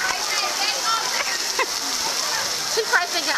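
Heavy rain at Hershey Park pours down as a dense, continuous hiss and splatter, loud and close, with a voice speaking briefly underneath.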